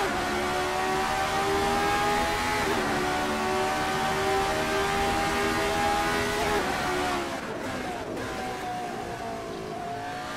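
Race car braking and downshifting at Watkins Glen, engine pitch sweeping down through gear changes, loud and steady, with faint commentary over it.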